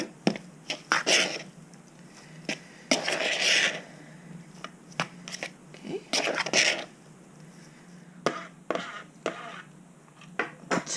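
A knife scrapes and clinks against a bowl while garlic for homemade meatballs is mixed, with irregular short taps and scrapes close by.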